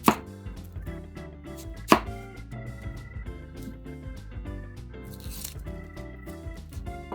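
A knife julliennes an onion on a cutting board, making a rapid series of close, crisp chopping taps with a couple of louder thuds, and no talking.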